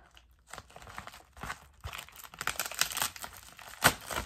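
An Ipsy Glam Bag envelope is torn open by hand: close crinkling and tearing of the mailer, quiet at first, then growing denser, ending in a sharper rip.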